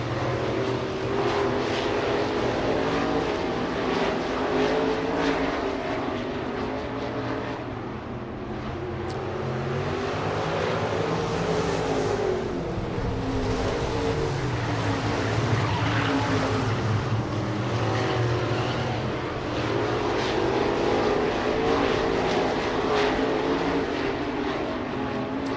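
Race cars circling a dirt oval track at Southern Raceway in Milton, Florida, a continuous roaring engine drone that swells and fades as the pack passes.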